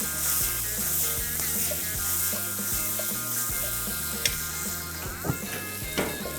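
Taco filling sizzles in a frying pan with a steady crackle, while a rhythmic mechanical ticking pattern plays along and a few sharp clatters sound near the end.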